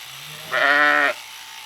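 A single sheep bleats once, a short wavering cry up close, with quiet background before and after.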